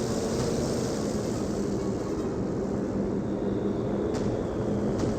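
A low, steady engine drone of a fixed-wing aircraft flying over a battlefield in the strategy game Company of Heroes 2, continuous and fairly loud with no voices.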